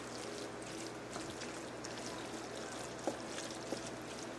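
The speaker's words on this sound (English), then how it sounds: "I'm going to add just a little bit more water." Water pours steadily into a pot of chili cheese mac, a continuous soft trickling wash at close range with a couple of faint clinks, no talking.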